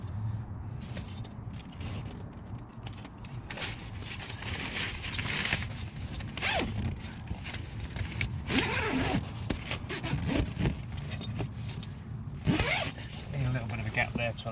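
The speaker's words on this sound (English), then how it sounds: "Zip the fly screen and the main cover up." Zippers being pulled closed on the fly screen and main cover of a Tentbox Lite roof tent, a steady run of rasping zip strokes outdoors with some handling noise and a voice talking now and then.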